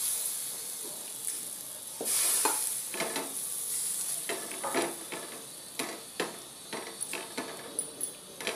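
Bhakri flatbread laid on a hot tava with water brushed over its surface, giving a soft steady sizzling hiss with scattered small crackles and pops, fairly faint and without voices.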